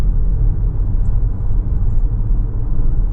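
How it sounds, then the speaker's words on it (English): A 2024 Volvo XC90 B6 hybrid all-wheel-drive SUV drives along, heard from inside as a steady, loud low rumble of road and engine noise with no talk. "So I am in the middle of the test drive of this beautiful Volvo SUV"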